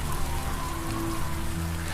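Steady rain falls on an open field, a dense, even hiss of drops that continues without a break.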